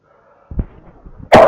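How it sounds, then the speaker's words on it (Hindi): During a maths lecture, a single sharp cough bursts out near the end, loud and close, following a quieter muffled thump and faint background hum. "एक्सट्रीमली सॉरी खांसी के लिए"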